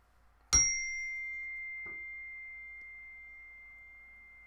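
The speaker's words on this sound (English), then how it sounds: "I'm gonna ring the bell" A single struck bell chime used as an alert for new followers rings out once, loud and clear, with a long pure tone slowly decaying over several seconds, plus a faint second tap.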